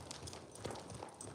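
A ridden pony's hooves clip-clop in a quick, even rhythm on firm ground, a few close hoof strikes over a short stretch with faint background noise.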